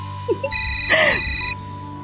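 A mobile phone rings briefly and loudly, a short electronic tone of about one second after a couple of soft blips, then quiet.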